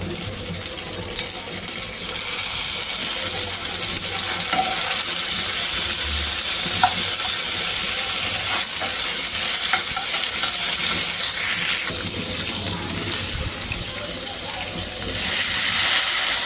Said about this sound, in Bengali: সিম সিদ্ধ সিম আলু কুচুগুলো বেশ খানিকটা সময় ভাজতে থাকবো